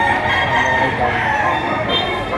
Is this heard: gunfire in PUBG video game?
no